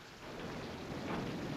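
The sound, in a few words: thunder and rain of a storm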